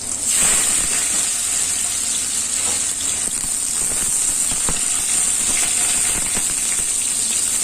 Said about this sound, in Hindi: अब इसमें आलू को तल लेंगे। आलू को भी लाल होते तक तलना है।